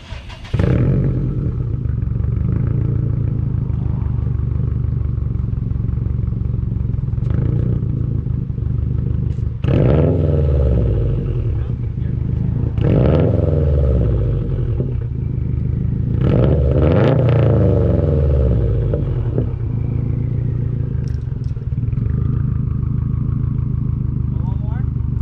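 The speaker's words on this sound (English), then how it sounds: "I'm going to have him start it up for you, give you a couple revs, and just hear the muffler delete" Subaru WRX/STI with a muffler delete and 2015 mid pipe idling roughly in a parking lot, then revved several times, each rev a loud rising roar that drops back to a burbling idle, with people talking near the car.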